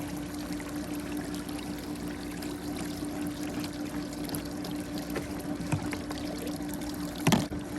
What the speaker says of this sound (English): Let a lot of the water drain out.